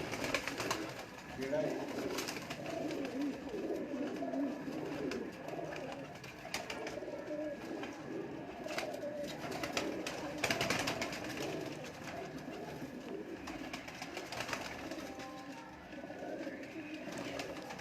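Soft pigeon cooing from a loft of paired birds, repeated low coos rising and falling over a quiet background while someone talks throughout.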